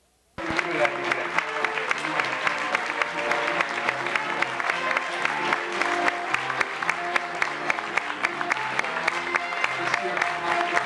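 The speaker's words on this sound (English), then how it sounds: "A nice round of applause." Applause fills a cruise ship's showroom after a team tally is announced, dense steady clapping with sharp individual claps, loud and continuous throughout, with crowd noise mixed in.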